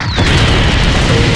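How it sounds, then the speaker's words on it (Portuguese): An explosion in an anime blows a hole under an enemy: a short, loud, booming blast that fills the whole clip with a rumbling roar, after a thin whistling sweep at the very start. "Uma explosão abre um buracão embaixo do inimigo."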